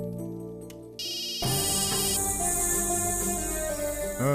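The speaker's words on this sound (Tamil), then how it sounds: "சண்முகம், அம்மா ஜோசியருக்கு ஃபோன் பண்ணி என்கிட்ட கூட பேசு" A telephone rings with a bright electronic ringtone, loud and close, its repeating warbling tones filling the moment alone without talk.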